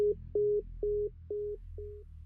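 A telephone busy tone after the caller hangs up: five evenly spaced, steady electronic beeps, each about a quarter second long with short gaps between them, clear and alone with no voices.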